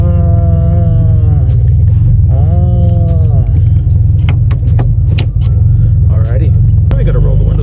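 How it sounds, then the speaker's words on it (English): A Honda DC2 engine starts cold, settling into a loud, steady low idle rumble close by, with a whining tone early on, scattered clicks and brief muffled voices. "All right, let's get a cold start."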